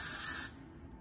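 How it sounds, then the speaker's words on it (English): A short hiss of Got2Be hairspray sprayed onto a hairbrush, one close burst lasting about half a second before cutting off to quiet. "I'm going to spray this brush."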